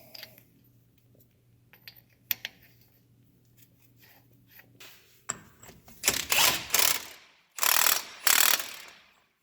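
Ratchet wrench tightening an axle nut on a Dana 60 front axle: scattered light clicks early, then loud bursts of rapid ratcheting in two strong runs, close by with no talk.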